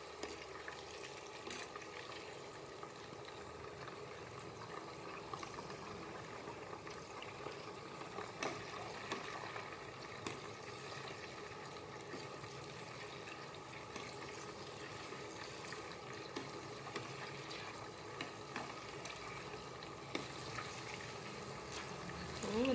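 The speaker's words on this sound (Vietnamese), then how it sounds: "Đó, giờ mình chiên trứng cút nha." Quail eggs frying in hot oil give a steady, even sizzle and crackle that runs the whole time, faint and continuous with no voices over it.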